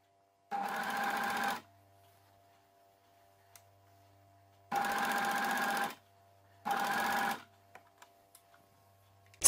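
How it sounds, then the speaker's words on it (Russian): An overlock serger stitching a T-shirt seam runs in three separate bursts, about a second each, with a steady fast whirring hum and quiet pauses between, heard alone at close range. "Край ткани укладываем по ограничительной пластине и прокладываем строчку."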